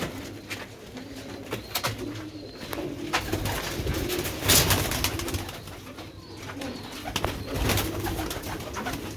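Pigeons coo in a close, repeated run of soft throaty calls that continue steadily throughout, with a brief rustle partway through.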